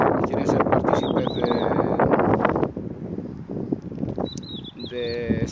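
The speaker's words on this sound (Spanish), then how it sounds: "Los pájaros te escuchan hablar y pues quieren también ser partícipes de" Outdoors, birds chirp with short high tweets heard briefly under a man's steady speech, with wind noise in the background.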